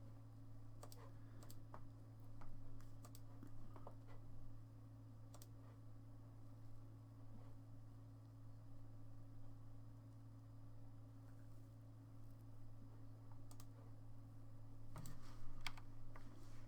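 Quiet computer keyboard typing, scattered clusters of light key clicks over a low steady electrical hum, faint and irregular across the stretch.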